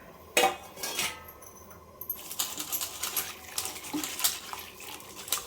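Clattering metal clinks and watery splashes as fish for a village-style fish fry is dropped into water in a kadai pan, close by with sharp knocks and sloshing, no talk.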